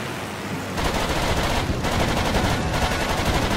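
Rapid machine-gun fire from aircraft in the World War II flight game Blazing Angels, set during the Dunkirk evacuation, a dense, loud continuous rattle that starts abruptly and keeps going to the end.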